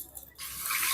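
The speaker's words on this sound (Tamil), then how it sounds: "தண்ணி ஊற்றிக்கலாம்." Water pours into a pot of mutton podi kuzhambu curry, starting abruptly after a brief quiet moment and continuing as a steady, rushing splash close by.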